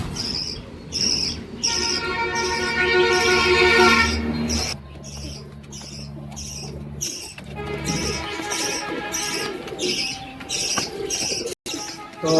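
Pigeons in a loft make a loud, close, continuous bubbling coo that rises and falls in repeated phrases, with brief scuffling in between.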